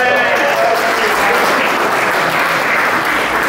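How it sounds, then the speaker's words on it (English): A small group of lads claps and cheers in a steady, dense burst of applause, loud and close throughout, celebrating the handover of a brand new Aston Martin. "Round of applause."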